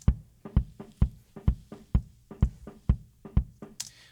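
Dry, unprocessed kick drum from an inside-the-drum mic, struck alone in a steady rhythm of about nine close, punchy hits with short decays over roughly four seconds.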